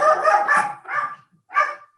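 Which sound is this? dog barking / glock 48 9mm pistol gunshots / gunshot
dog barking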